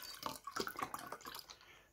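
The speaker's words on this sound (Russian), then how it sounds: "Наливаю я себе вот столько приблизительно." Juice pours from a carton into a glass, a soft, faint trickling and splashing with light liquid drips, heard alone without talk.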